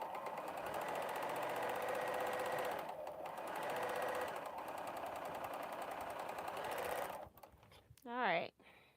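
A vintage FOF Quilt Expressions 2044 sewing machine with small bobbins stitching in a fast, steady whir for about seven seconds. It then stops, followed by a brief rising mechanical whine and quieter handling.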